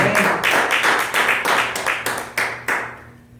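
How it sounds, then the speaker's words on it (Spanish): A church congregation claps together, a burst of dense, rhythmic handclaps that thins into scattered claps and fades out within a few seconds. "Den un aplauso con todos ustedes."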